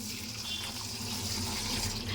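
Water poured from a large glass into a cooking pan while making semiya upma, a short, close, steady splashing flow with no talk.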